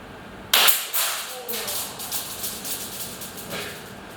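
A Showguns custom airsoft 20mm shotgun shell fires with one sharp, loud crack, then a short sputtering hiss and scattered pops fade away over the next few seconds.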